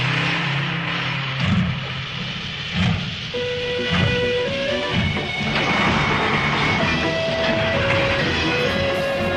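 A cartoon train rolls across the Milky Way, a steady loud rumble and hiss of rail travel running throughout with tonal music lines over it.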